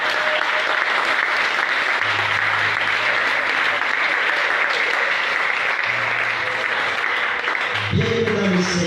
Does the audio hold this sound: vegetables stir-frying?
no